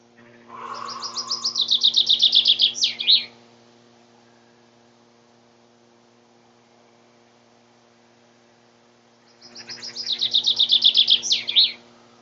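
A songbird in a garden gives two identical bright trilled phrases of rapid repeated notes, each about three seconds long and separated by a long pause, over a steady low electrical hum.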